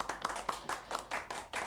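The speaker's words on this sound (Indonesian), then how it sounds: "Tepuk tangan untuk Dusun Kopen." A small group in a rural village hamlet in Magelang claps in welcome, with a run of distinct, fairly close handclaps in an uneven rhythm. No one speaks over the clapping.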